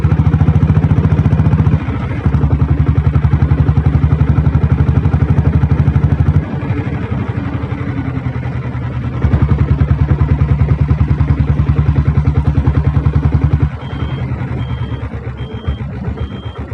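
A diesel Royal Enfield Bullet engine thumps loud and close with a steady, heavy beat. The note drops and picks up several times as the gears are shifted, and a faint whine comes in near the end.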